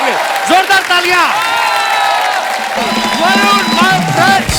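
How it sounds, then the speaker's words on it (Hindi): A studio audience at a comedy talk show applauds and cheers as film stars arrive, with dense clapping under loud whoops and shouted voices rising and falling throughout. "जोरदार तालियां"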